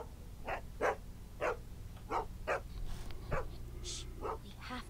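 Repeated dog barks in The Walking Dead Season 2 game, about eight sharp yaps at an uneven pace, moderately close over a low steady ambient rumble.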